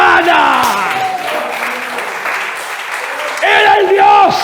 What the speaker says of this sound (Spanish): Un aplauso más fuerte para Él.